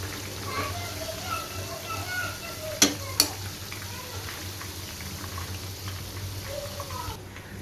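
Chicken 65 pieces deep-fry in hot oil with a steady crackling sizzle, while a spoon scrapes the pan twice with sharp clinks.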